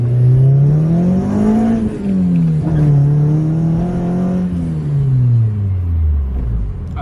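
A Toyota AE92 Corolla with a 3S-GE engine revs up and down in repeated rising and falling surges, loud and close, with the strained whine of hard acceleration as the wheels spin.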